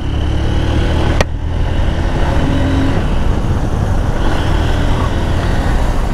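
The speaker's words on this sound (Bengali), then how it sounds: "এখন টান ভালো উঠছে বাইকের, ইঞ্জিন ফ্রি হওয়ার পরে বাইকের টান ভালো উঠছে" A Honda CB Hornet 160R CBS motorcycle engine drones steadily while riding, blended with heavy wind rush, with one brief sharp click early on.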